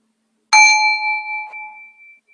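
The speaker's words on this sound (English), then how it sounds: "I will ring the bell when it's time to come back." A single bell rings to close a moment of silent reflection during a Sunday service. The clear, bright tone decays slowly over about two seconds, and a faint second tap follows, with no voices.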